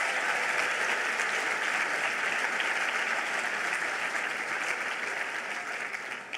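Round of applause from a gathered audience at a live event with a bishop, sustained dense clapping from many people, even and fairly loud, easing off in the final second.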